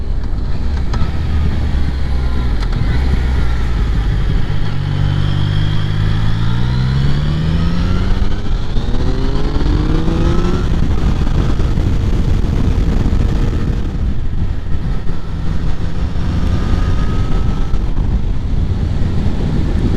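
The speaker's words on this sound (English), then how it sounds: "You can see the car coming." A car climbs a hairpin bend near Hartside Summit on Alston Moor in the Pennines, its engine rising in pitch as it approaches, heard under steady wind buffeting the microphone.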